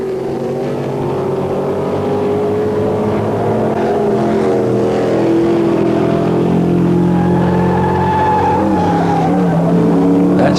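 A 1982 Bobcat Mustang ASCAR race car roars through the paddock section, its engine note loud and sustained, pitch rising and falling through gear changes while other race cars run close by throughout.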